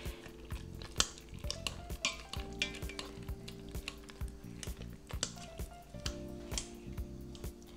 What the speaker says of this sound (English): I'm just gonna use this potato masher to go ahead and mash these potatoes while they're in here